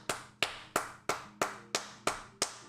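Eight sharp, evenly spaced hand claps close to the microphone, each a crisp slap with a short decay, repeated in a steady rhythm about three per second with no talk.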